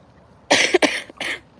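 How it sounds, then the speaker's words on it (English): Three sharp coughs from a person who is sick, in quick succession, close and fairly loud, the first two run together and the third after a short pause. "so apologize for my coughing"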